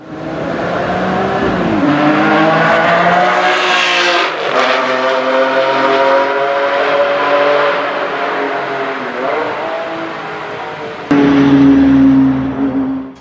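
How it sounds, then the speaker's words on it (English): A Ferrari Enzo with a 6-liter naturally aspirated V12 producing 660 horsepower drives close by, its engine loud and continuous as it revs and shifts through harmonic tones, with a sharp surge in pitch near the end. "Under the hood, the Enzo boasts a ferocious 6-liter naturally aspirated V12 engine, pumping out 660 horsepower."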